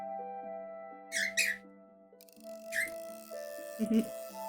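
A restless pet bird lets out a quick pair of sharp, nearby squawks, then another a little later, over steady electronic background tones, with a voice chiming in near the end.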